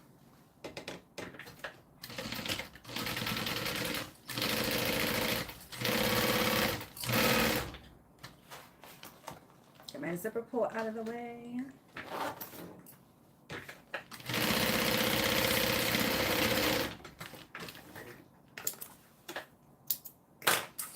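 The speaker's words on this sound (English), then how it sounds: "And then sew that down." A sewing machine stitches fabric in several sustained loud bursts of rapid mechanical chatter, stopping and restarting with short pauses, close by; a person speaks briefly between runs.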